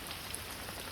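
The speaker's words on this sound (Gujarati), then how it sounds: "વરસાદ છે સારું છે ધીમો ધીમો" Light rain falls steadily over a village in Botad, a soft continuous hiss of drops with faint patters, no voices.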